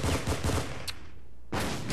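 Rapid bursts of automatic gunfire in the online shooter War Inc Battlezone crackle loudly, a short pause of quiet, then another volley erupts.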